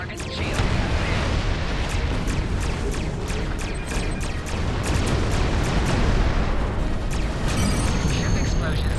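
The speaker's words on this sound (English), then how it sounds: "Ship explosions cause damage." Starship explosion in the Star Trek Online video game, a dense, continuous roar of booming blasts and crackling bursts that stays loud for the whole stretch, with sharp repeated impacts layered over rumbling low debris noise.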